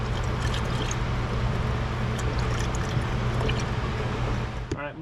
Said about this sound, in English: It's because I was pouring left-handed.